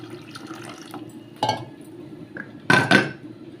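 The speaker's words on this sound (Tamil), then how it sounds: "இப்போ புளி தண்ணியும் சேர்த்துக்கிறேங்க" Tamarind water pours and splashes into a metal pot of mutton rasam in a couple of short bursts, with a faint clink of utensils, close by.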